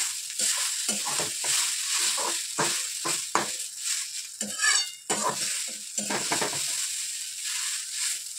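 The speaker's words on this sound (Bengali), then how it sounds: "নাড়াচাড়া করে ভাজবো।" Chow mein noodles with salt and chow mein spice stirred and fried in a little oil in a pan, a loud continuous sizzle broken by repeated scraping stirs, close up with no talking.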